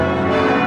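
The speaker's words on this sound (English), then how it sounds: "October 5th, dawn breaks to the furious ringing of bells." Church bells ringing at dawn in revolutionary France, a dense sustained metallic ringing with steady overlapping tones and no voices.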